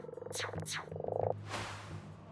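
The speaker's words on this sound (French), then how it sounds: "Ça fait qu'à un moment donné, il y avait comme une invasion de crapauds." Toads croak in a short burst of rapid, pulsing trills, several calls overlapping at close range with no voices.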